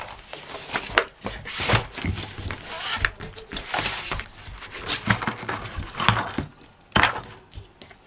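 A worn craft blade cuts through a paper or card Eiffel Tower piece for a small travel-case project, producing close, irregular scratchy scraping strokes and soft thunks with brief pauses between them.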